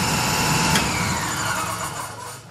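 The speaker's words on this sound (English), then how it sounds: "When it gets to the reach pressure, the machine will then shut off." A home CNG compressor in Ohio, set to stop at 3600 PSI, shutting off once it reaches pressure: a steady mechanical engine-like hum, close and fairly loud, that winds down and fades toward the end, with no talk.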